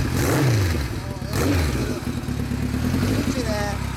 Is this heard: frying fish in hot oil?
no